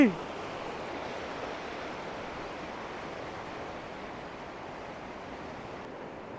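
Steady broadband rush of the Rishi river flowing beneath a wooden bamboo-platform bridge, a continuous even roar of water close by with no talking.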